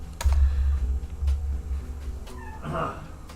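A house cat meows up close in a short rising call near the end, following low thumping and rustling from someone typing at a keyboard in a room.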